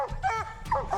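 A hunting dog after a black bear hunt, giving short whimpering yips and barks close by, with a voice partly mixed in.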